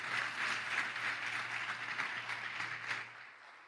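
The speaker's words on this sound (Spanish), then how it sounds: "Dale un aplauso al Señor." Congregation in a church breaks into sustained applause, a steady broad wash of many hands clapping at once, fairly loud throughout before easing off in the final moment.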